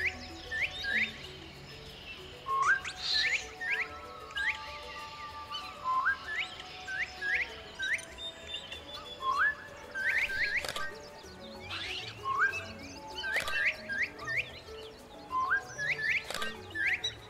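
Whistled bird-like calls from the video game Beasts of Maravilla Island, repeated short rising and falling chirps and trills in irregular bursts, fairly clear over a soft ambient bed with no talking.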